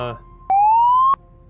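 One short electronic siren whoop from a police-style light bar in Project Zomboid, rising steadily in pitch for about half a second and cutting off abruptly, heard after a brief bit of speech.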